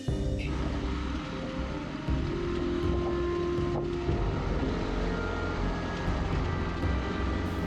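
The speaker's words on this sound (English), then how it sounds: "Let's get on the dirt bike, let's go check it out," A dirt bike ridden outdoors near an abandoned mining camp after snowmelt gives a steady, loud engine drone mixed with heavy wind buffeting the microphone, with no talking.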